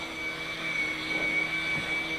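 A Raptor 30 gas model airplane engine drones steadily with a thin, high whine holding one pitch throughout, fairly close and unbroken.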